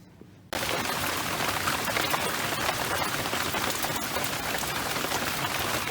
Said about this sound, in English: here's our Hurricane Sally leftover rain. It's coming down.